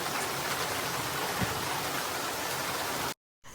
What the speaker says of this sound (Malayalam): അങ്ങനെ മഴ അവിടെ തകൃതിയായിട്ട് പെയ്തുകൊണ്ടിരിക്കുന്നുണ്ട്